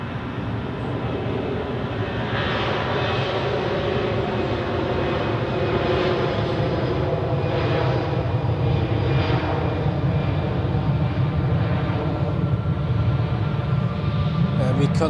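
Jet engines roar steadily at Zurich Airport as an aircraft powers up for takeoff, a broad, sustained rumble that slowly builds, with a voice talking over it.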